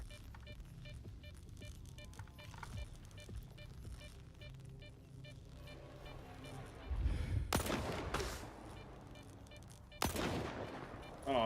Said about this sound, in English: Oh no, I'm shooting into a wall.